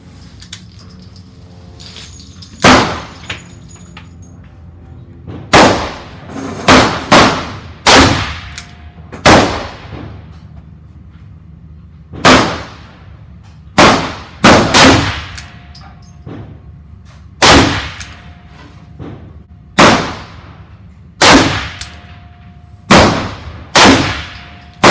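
A Smith & Wesson M27-9 .357 Magnum revolver fired at a range with hot jacketed hollow-point loads, about fifteen loud close shots in irregular bursts, each with a brief ringing decay.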